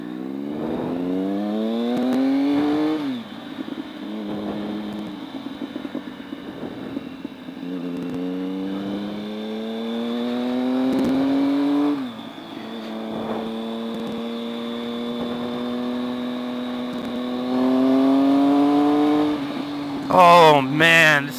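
A 2012 Triumph Speed Triple motorcycle engine accelerates hard through several gears, its rising tone climbing, dropping at each shift and climbing again. The engine is loud and close throughout, ending with a brief burst of noise.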